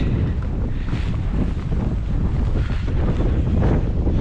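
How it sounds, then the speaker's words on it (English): Strong wind on a clifftop in West Cornwall buffeting the microphone in a constant low roar, loud and unbroken throughout, with no voices. "It's a bit windy"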